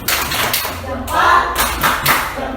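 Classroom clapping routine led by a teacher with students, brief rhythmic claps close by with voices mixed in.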